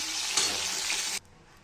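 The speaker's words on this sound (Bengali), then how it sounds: "আমার মাছটা ভাজা হয়ে গেছে, এগুলো সব তুলে রাখছি মাছগুলো" Fish frying in hot oil for a Bengali fish curry, a loud, steady broadband sizzle that cuts off abruptly after about a second as the pieces are lifted out, leaving near silence.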